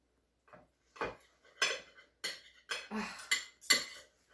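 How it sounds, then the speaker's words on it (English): Knife and fork scraping and clinking on a plate while cutting into a Chicago-style deep dish pizza loaded with cheese and sausage, a series of distinct close metallic strokes in irregular rhythm with no talk. "You eat Chicago pizza with a knife and fork."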